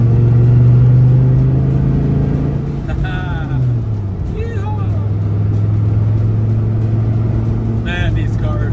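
Dodge Viper sports car engine drones steadily and loud while driving on winding roads, its pitch shifting slightly mid-run, with someone talking intermittently over the engine.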